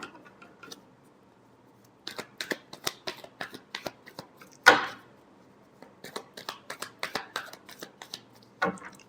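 Tarot cards are riffled and shuffled by hand in close, quick bursts of crisp flicks and slaps, with one sharper snap midway and short pauses between rounds.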